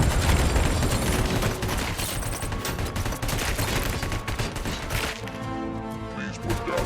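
The ED-209 robot attacks with gunfire in the video game Robocop Rogue City, dense heavy shooting and mechanical clatter that sound close and loud, ending in a quieter ringing tail, with talk faintly underneath.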